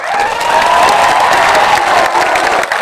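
A large crowd at a political gathering claps continuously, a loud, dense wash of applause with some cheering mixed in, sustained for the whole stretch.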